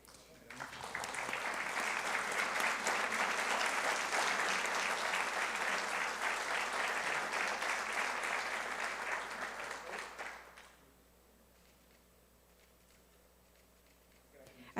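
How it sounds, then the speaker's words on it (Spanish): A conference audience at a law lecture on amparo reform breaks into sustained, even applause for about ten seconds, then it stops abruptly, leaving quiet room tone. "Agradecemos nuevamente con un fuerte aplauso."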